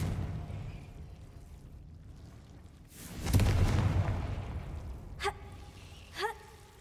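A Confringo fire spell in Hogwarts Legacy bursts as a loud, broad whoosh-explosion that swells and fades over about two seconds, followed by two brief bright magical chimes, over quiet ambient game background.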